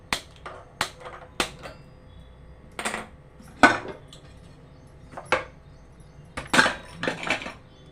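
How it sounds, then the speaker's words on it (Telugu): Gas stove lit and a bowl cooker set down on it while cooking bitter gourd, heard as a run of sharp, close metallic clanks and knocks of pots and utensils, spaced irregularly with a few clustered rattles. "గ్యాస్ వెలిగించి బౌల్ కుక్కర్ పెడుతున్నాను"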